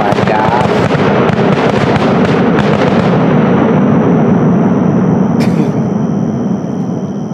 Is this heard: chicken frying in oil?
no